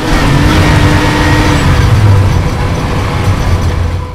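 Loud, close car engine revving and accelerating with a rising, roaring drone that holds steady for several seconds, a sound effect of a doctor's automobile speeding up.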